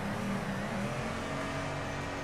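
A twin-turbo V8 car engine in the Torque Drift video game holds a steady, loud revving drone with a few shifting tones, heard alone.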